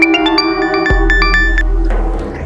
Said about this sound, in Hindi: 10 दिन पहले लक्ष्मी का फोन नहीं लगा तो मैंने दामाद जी को फोन किया।